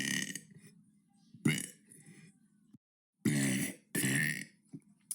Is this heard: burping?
yes